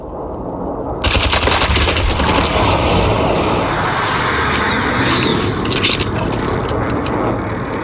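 Air strike gunfire in the Warzone video game: a loud, sustained rattle of rapid automatic fire that erupts after a quiet second and continues densely to the end, with scattered metallic clinks, no talk.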